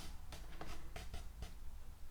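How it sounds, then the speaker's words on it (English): Paper is cut along a score line with a straight-edge trimmer for a papercraft sticky-note holder, giving a series of faint, quick scraping strokes at an uneven rhythm. "So we're just going to cut down to this score line"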